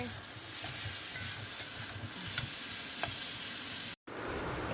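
A curry with taro roots simmers and sizzles steadily in a pot on the stove, with a few soft clinks of a spoon stirring close by, before the bubbling briefly cuts out near the end.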